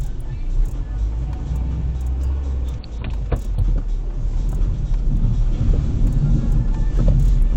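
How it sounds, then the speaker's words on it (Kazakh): A car drives past on a street lane, a steady engine and tyre rumble that swells toward the end, with faint voices in the background. "Сейчас машина проедет."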